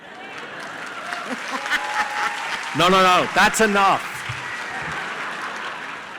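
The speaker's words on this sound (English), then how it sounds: "Applause for Richard." Studio audience applause for producer Richard, a steady clapping under speech that swells briefly as someone talks over it.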